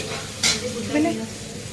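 Tomatoes frying in a pan give a brief burst of stirring and sizzle over a low kitchen background, with a faint voice nearby.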